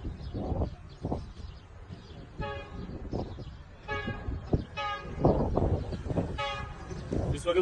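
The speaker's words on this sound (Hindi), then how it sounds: "हॉर्न बजाना शुरू कर दिया ट्रेन ने।" The Tezgam passenger train sounds its horn repeatedly while passing at high speed, several loud toots cutting over the rumble of the cars. Someone talks quietly in between.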